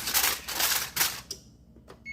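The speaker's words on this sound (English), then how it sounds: "Set my timer." A kitchen oven timer being set: a few sharp clicks and button taps close up, followed by short electronic beeps, in a quiet room.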